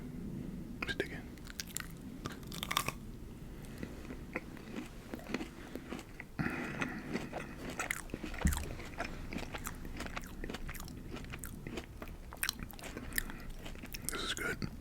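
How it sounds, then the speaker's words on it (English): Close, crisp bites and wet chewing of an Oreo ice cream bar with a dark chocolate coating, steady crunching and mouth sounds over several seconds, recorded intimately with no talk. "it's an Oreo ice cream bar, so it's to be expected. Okay, let's dig in"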